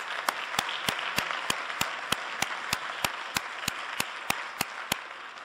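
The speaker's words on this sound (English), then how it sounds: "Will you join me in a round of applause for them?" Audience applause at a university lecture fills the room, a steady, fairly distant wash of many hands clapping with a few sharper individual claps standing out at regular intervals.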